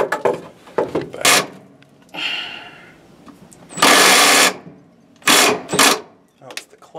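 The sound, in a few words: power drill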